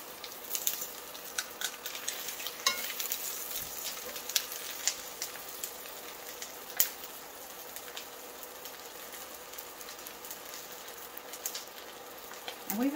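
Beef shank sears in an enameled cast iron skillet, giving a steady, fine sizzle and crackle with occasional louder pops, close and continuous with no talk over it.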